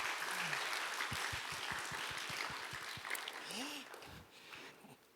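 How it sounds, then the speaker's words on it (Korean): A congregation at a church youth service gives a short burst of clapping, a quick run of sharp claps in the room that fades out, with a voice speaking over it. "한 번 더 힘차게 박수로 격려하겠습니다"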